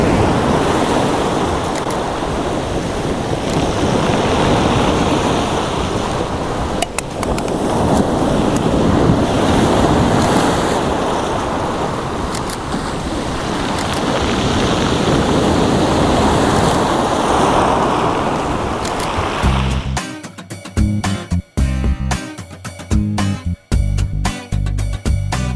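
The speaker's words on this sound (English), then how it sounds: "the right waves as they break on the rocks." Waves surge and break on rocks at a beach in long roaring swells that rise and fall every few seconds under heavy wind, then give way to choppy, broken gusts near the end.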